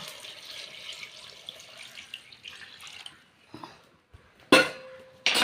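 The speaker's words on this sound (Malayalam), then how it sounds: "അതിലേക്ക് ഒരു പാത്രം വെള്ളം, വേവാനുള്ള വെള്ളം കേട്ടോ." Water for cooking tapioca pours into a cooking pot with watery splashing and clinking of metal vessels, ending in sharp, loud bursts of sound near the close.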